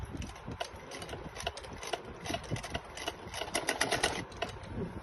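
A sewing machine stitching a salwar, with a steady rapid mechanical chatter running throughout and clustered bursts of stitches, close and fairly quiet, with no talking.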